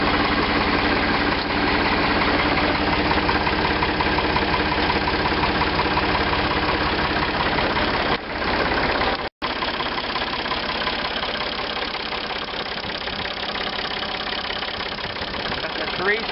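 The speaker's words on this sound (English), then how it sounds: "That's a 3-cylinder 3600." A 3-cylinder Ford 3600 tractor diesel idles steadily with an even, knocking chug, close and continuous apart from a brief dip partway through.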